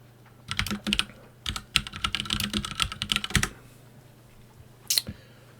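Fingers type on a computer keyboard nearby in quick irregular bursts of clicky keystrokes. A short pause comes before a final couple of sharper taps.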